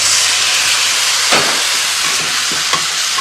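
Steam hisses loudly from a covered wok of food cooking in soy sauce, sugar and water, a constant close rush with a few soft sizzling pops and clicks and no talking.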